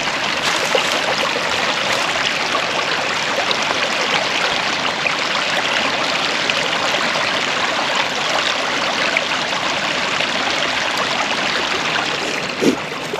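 Spring water flows straight out of the ground near an old spring house on a farm nature preserve, a steady, close, full rushing trickle that runs unbroken throughout without any talk.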